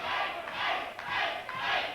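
A wrestling crowd at an NWA Anarchy Fright Night title match screams for Ace Rockwell, a steady roar rising and falling in loud surging waves.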